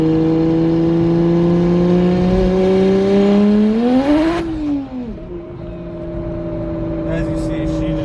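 A single-turbo BMW N54 pulls hard through a gear in cold conditions, its loud engine note climbing steadily before dropping sharply at the shift and then settling back into a lower drone, heard from inside the car.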